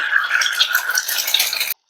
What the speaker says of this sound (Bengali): আমি ডিমটা ভেঙে কড়াইতে দিয়ে দিলাম।